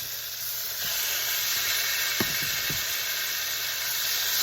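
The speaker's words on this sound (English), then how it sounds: "They have marinated overnight and they're ready to be browned." Marinated chicken thighs for Jamaican curry chicken sizzle and spit steadily as they brown in a hot pan, with a few sharp pops and crackles rising over the constant frying hiss.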